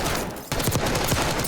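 Rapid bursts of automatic gunfire in a shooter video game, a brief dip then a dense, loud volley of overlapping shots continuing steadily.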